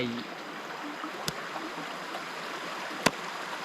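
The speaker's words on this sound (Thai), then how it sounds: "ยินเสียงน้ำไหล" Stream water trickles and gurgles softly in a steady background wash, with a couple of brief sharp clicks, and a voice murmurs faintly at the start.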